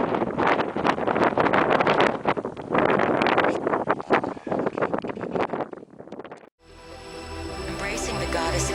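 Strong wind gusts across a steep mountain in the Brecon Beacons, buffeting the microphone with a loud, rough roar for about six seconds before it cuts abruptly to music.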